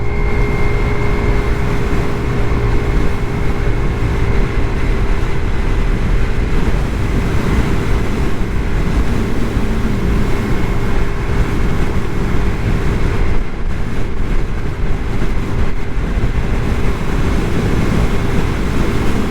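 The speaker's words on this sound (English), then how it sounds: "really heavy side wind coming from my right." Heavy crosswind buffets a rider on a Vitacci Tank 200 Deluxe scooter crossing a bridge, a steady loud roar of wind noise over low engine hum, continuous for the whole stretch with no talk.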